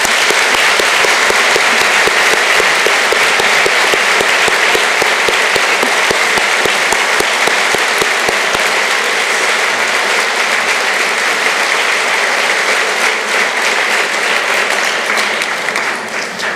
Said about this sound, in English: I think I'd like everyone to give Ms. Keogh a round of applause.